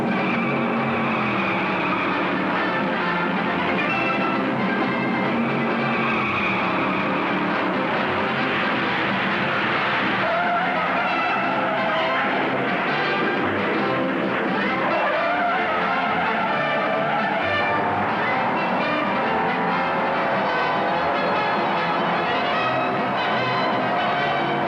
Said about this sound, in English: the distant sound of Dixie is mixed with a roar of engines